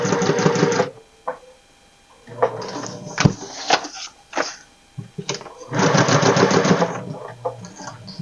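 A sewing machine runs in bursts of fast mechanical stitching, with quiet pauses and small clicks and clunks from handling between runs, close by.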